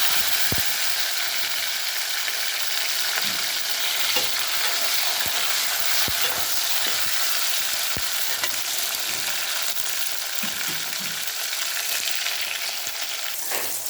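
Garlic, onion and tomato sizzle steadily in a pan for a tamarind curry with yam, with frequent sharp clicks and scrapes of a spoon stirring; close, continuous frying with no talking.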